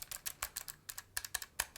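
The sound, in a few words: typing on a metal Logitech G keyboard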